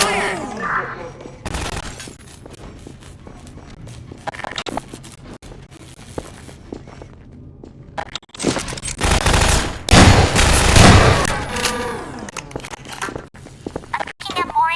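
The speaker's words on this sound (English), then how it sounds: "Airwalk, all communications off. Open fire!" Volleys of soldier and turret gunfire from the Half-Life 2 video game, with sustained rattling bursts that build to a loud, dense fusillade near the end, mixed with other game sounds and a voice talking.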